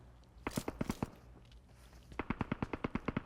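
Video game gunfire rattles out in two quick bursts of sharp, evenly spaced shots, a short run first and then a longer one after a brief pause, moderately loud with no talk over it.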